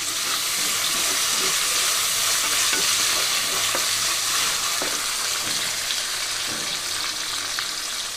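Two medium chopped tomatoes fry in a pan with oil and curry leaves for Rayalaseema-style pulagam, a loud, steady, close sizzle with faint stirring clicks throughout and no talking.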